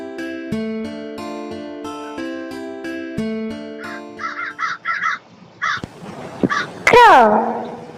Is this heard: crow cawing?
yes